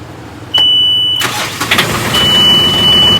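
A sailboat engine cranks with a sharp electronic beep, catches, and settles into a loud, steady running rumble close by, with another beep toward the end.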